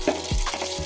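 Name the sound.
cumin seeds crackling in hot oil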